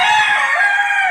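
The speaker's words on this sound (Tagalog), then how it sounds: "Manok ni San Pedro, yan." A rooster crows loudly and close by, one sustained, strained call lasting about a second with no other sounds.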